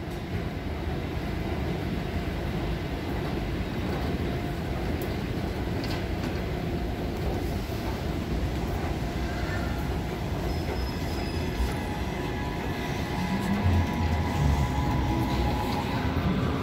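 Train rumbling steadily through Dietzenbach station in Germany, a continuous low roar with faint wheel squeal near the end, heard from the platform.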